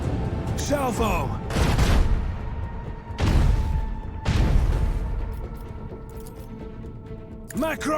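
A ship's cannon salvo in Warhammer 40k: Rogue Trader lands as three heavy, crashing booms a second or so apart, each trailing into a rumble, while a voice talks briefly at the start and end.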